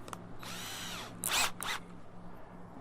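A power drill runs in short bursts while bored into a rain screen structure, with a half-second whine followed by two brief, sharper high-pitched runs, close and clear with no talking.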